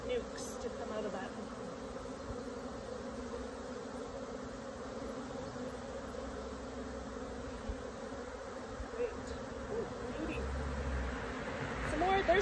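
Dense, steady hum of honey bees swarming at an open hive during a colony split, a continuous close buzz with faint drones drifting through and no voices.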